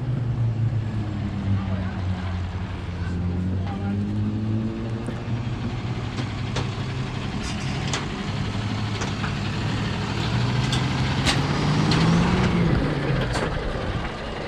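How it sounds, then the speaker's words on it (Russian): A garbage truck rolls out through the gates of Buckingham Palace in London, its engine a steady low rumble with a rising note near the end, heard from nearby over street background. "Мусорная машина, видите, убирает."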